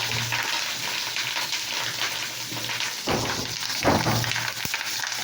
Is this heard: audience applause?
no